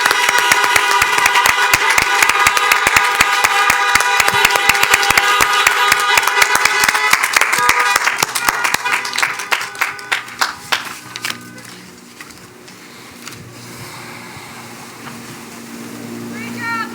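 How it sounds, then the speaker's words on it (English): Audience applause and claps from families seated in their vehicles at an outdoor drive-in college commencement, a dense loud burst that thins and fades away over the final seconds. "Please join your family and friends back in your vehicles in a round of applause"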